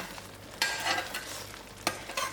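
A spoon stirs paneer makhani curry with fresh dhania in a pan, scraping a few times over a gentle, continuous sizzle.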